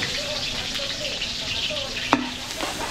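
Garlic and onion sautéing in oil for kaldereta, a continuous bright sizzle with a brief clink of a utensil stirring partway through, close and steady.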